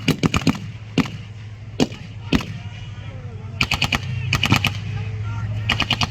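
Marines in a fire team demonstration lay down a base of fire, with loud bursts of rapid gunshots in irregular clusters at outdoor range distance, and faint voices underneath.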